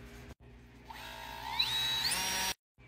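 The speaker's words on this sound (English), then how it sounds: "We're gonna drill a couple pilot holes and then we're gonna fasten it with this." A power drill boring pilot holes into a pipe for a DIY hydroponics tower: a short start, then a rising high whine that holds for over a second before stopping abruptly, close and alone.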